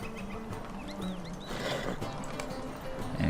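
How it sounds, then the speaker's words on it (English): Horse galloping during swift travel in the video game LOTRO, with a quick clip-clop of hooves and a neigh, a steady mix of game sounds running underneath. "You hop on the horse, you take off"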